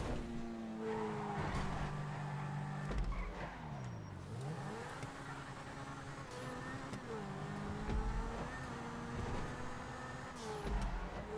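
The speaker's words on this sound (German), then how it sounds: "Yeah, mein Lamborghini geht ganz schön ab." A Lamborghini in a GTA 5 Online car race, engine revving and accelerating with rising and falling pitch sweeps, gear shifts and bursts of tire squeal, loud and continuous throughout.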